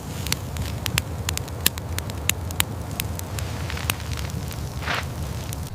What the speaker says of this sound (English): Fire erupts violently into the storm.